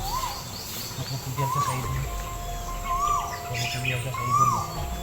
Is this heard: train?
no